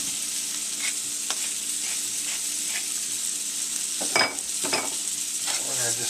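Carrots, parsnips and leeks sauté in duck fat and butter, giving a steady close sizzle with a few scraping stirs and clinks of a utensil in the pan, no talking.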